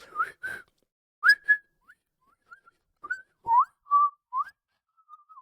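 A human voice imitates a video game character's whistling: a string of short, rising and falling whistled notes in an uneven rhythm, close and clear against silence, with no talk.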